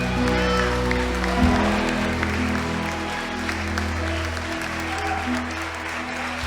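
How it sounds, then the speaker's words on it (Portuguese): Church congregation applauding during worship, steady crowd clapping over sustained low musical tones from the sanctuary, with voices faintly mixed in. "e você não quer aplaudir Jesus?"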